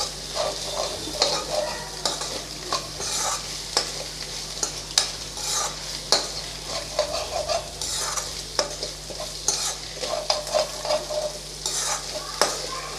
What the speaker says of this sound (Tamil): இப்போ நம்ம எல்லாத்தையும் மசாலா எல்லாத்தையும் சேர்த்து ஒன்றா கலந்து விட்றலாம்.